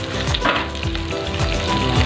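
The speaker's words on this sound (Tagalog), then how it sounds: "Medyo na golden brown na po yung bawang natin guys, saka natin ilalagay ang ating sibuyas" Garlic sautéing in hot oil in a pan for pancit bihon guisado as red onion is added, a steady close sizzle with light stirring scrapes, no talk.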